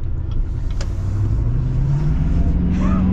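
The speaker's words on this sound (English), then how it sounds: "We're going to be getting our acceleration here with the diesel." A 2023 Chevy Silverado HD with the 6.6L Duramax diesel pulls hard under acceleration, a loud, steady engine drone rising in pitch over about three seconds, heard from inside the cab.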